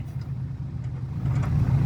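A farm tractor's engine rumbles low and steady while the machine backs up and maneuvers, running close and rising slightly toward the end.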